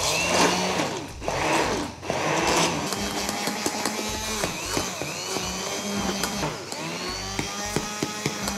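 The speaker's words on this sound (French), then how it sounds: "À l'aide d'un mixeur, je vais faire l'émulsion." A hand blender whirs close by as it mixes a pink grapefruit emulsion seasoned with pepper and salt. The motor drones loudly and its pitch wavers and shifts as it churns.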